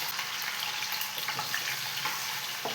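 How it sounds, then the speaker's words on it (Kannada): Potatoes fry in a pan on the stove, a steady hiss of sizzling oil with faint crackles and occasional stirring clinks, close and without voices. "ಇದನ್ನ ರಘು ಸರ್ ಹೇಳ್ದಂಗೆ ಫ್ರೈ ಮಾಡ್ತಾನೇ ಇರಬೇಕು, ಹಂಗೆ ಬಿಟ್ಬಿಟ್ರೆ ಸೀದೋಗ್ಬಿಡುತ್ತೆ."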